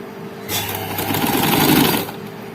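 A sewing machine runs a single steady stretch of stitching along a sleeve seam on the inner side of a frock sleeve, starting abruptly and lasting about a second and a half before stopping.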